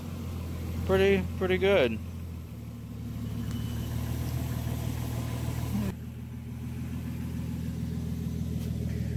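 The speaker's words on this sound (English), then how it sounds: "Sounds like a little belt noise of sorts" Engine of a Japanese import car idling with a faint belt whine, a steady low rumble running throughout while someone talks over it near the start.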